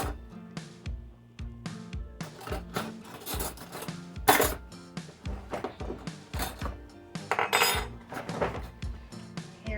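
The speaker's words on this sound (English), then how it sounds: "I'm getting two identical spoons out" Two metal spoons clink and clatter against each other and nearby dishes in a home kitchen, a quick run of sharp, bright, close taps with no voice.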